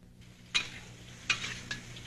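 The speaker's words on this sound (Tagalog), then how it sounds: "Ngayon, ililipat ko na ito sa kabilang kawali kung nasaan ang ating sauce. Ayan, haluin nyo lang ng haluin." Lemon chicken is stirred into sauce in a wok, with a few distinct scraping clatters of a utensil against metal spaced about a second apart over a quiet, faint sizzle.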